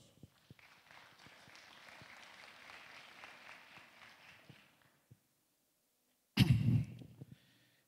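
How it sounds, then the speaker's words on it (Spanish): Loud, sustained clapping from an audience at the 31st anniversary ceremony of a topographic engineering and surveying school runs for about five seconds and stops abruptly. A sharp, loud thump follows after a short silence. "Fuertes aplausos."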